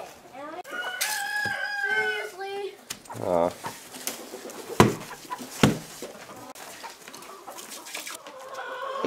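Backyard chickens clucking and a rooster crowing on a cold morning at feeding time, several close calls scattered through the clip while people talk nearby.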